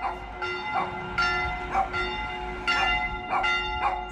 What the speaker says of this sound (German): Da läuten jeden Tag um 11, um 12 und abends um 19 Uhr die Glocken.